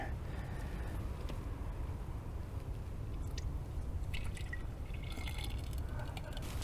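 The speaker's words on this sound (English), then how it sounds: "I'm going to pour some of this liquid back in here" Liquid gelcoat pours back into a mixing container with a continuous soft, sloshing stream, close and moderately loud, with a few small clicks and knocks of the container.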